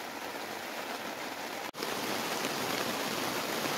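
Steady rain falls outside as a dense, even hiss that fills the whole stretch, broken only by a momentary dropout partway through, with no voices.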